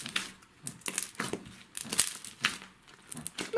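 Close, quiet crackling and crunching of crunchy slime, a rapid irregular series of small crisp pops and crinkles with no talking.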